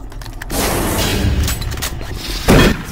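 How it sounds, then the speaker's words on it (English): Shotgun blasts from the game Doom 3, a sustained loud burst of gunfire-like booming with a heavier blast near the end, set against industrial game ambience. "They forced me to use this fucking shotgun."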